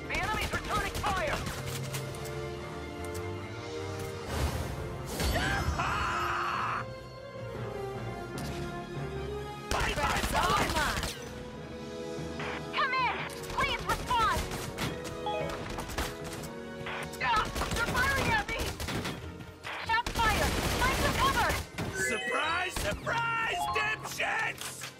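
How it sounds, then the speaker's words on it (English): Enemy gunfire in the video game Valkyria Chronicles 4, rapid bursts of shots and impacts mixed into loud game music and effects, dense and continuous throughout. "The enemy's returning fire!"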